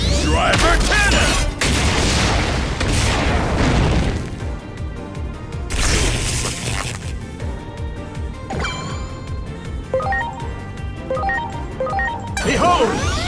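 A Driver Cannon attack in the Digimon Story Time Stranger video game fires as loud crashing, booming barrages followed by scattered popping hits and echoing impacts, ending with another heavy burst.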